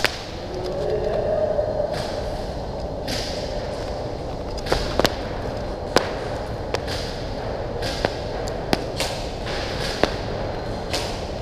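Sharp, snappy airsoft gun shots ring out one at a time during an outdoor skirmish in a parking lot, spaced about a second apart over a steady background hum with no talking.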